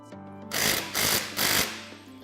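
Castle nuts on heavy-duty tie rods of a Kawasaki Teryx 4 are tightened with a power tool that buzzes and rattles in three loud, close bursts, each under a second, over a low steady hum.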